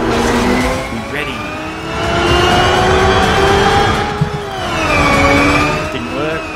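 Engine roars continuously as a car drifts in the racing game Xenon Racer, the pitch rising and sweeping with throttle and tyre slides, loud and close, with someone talking over it.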